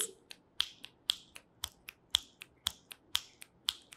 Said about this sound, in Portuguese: Podemos estalar os dedos.